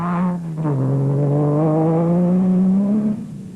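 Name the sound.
Nissan Navara race truck engine revving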